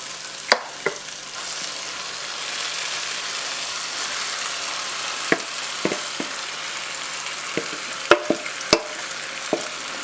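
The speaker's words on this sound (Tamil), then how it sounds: "இந்த சமயத்தில் நம்ம ஊற வச்சுருக்கிற இறாலை இதில் சேர்த்துடலாம்" Marinated prawns tossed into a thick Chettinad-style tomato masala in a hot pan, a continuous sizzle and fry with sharp scraping clicks of stirring scattered across, close and alone.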